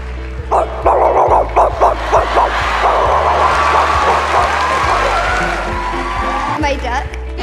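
A voice imitates a dog at a talent show audition before judges, giving a run of rapid, yappy barks and yips close up, followed by a longer whining, growling stretch.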